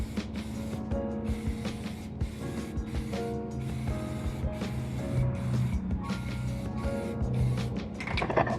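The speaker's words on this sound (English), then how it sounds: "got the weld through primer I'm going to spray only one side of each of the plates" Aerosol can spraying weld-through primer onto one side of steel reinforcement plates for an E36 subframe, a steady hissing spray with faint mechanical clatter, running continuously throughout.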